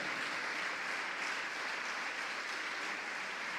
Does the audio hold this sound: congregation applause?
yes